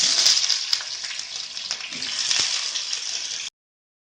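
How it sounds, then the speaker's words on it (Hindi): Taro (ghandyali) pieces shallow fry in oil, a bright continuous hiss with scattered pops and crackles, close and even throughout before cutting off abruptly. "अब इसको हम शैलो फ्राई करेंगे।"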